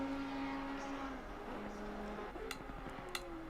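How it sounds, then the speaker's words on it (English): A GT4 race car engine in Assetto Corsa Competizione, racing at Imola, holds a steady, droning tone throughout, with a few sharp clicks near the end and faint commentary in the background. "I love the sound of that car, especially when you're running up against the walls."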